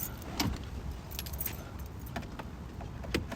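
Car keys for an Audi S4 jangling close by in a hand, a run of light metallic clinks and rattles over a quiet background.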